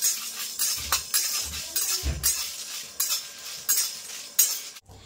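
A spatula scrapes and knocks in a pan of whole coriander and spices frying, giving a regular run of sharp clinks and scrapes roughly every half second, close and clear.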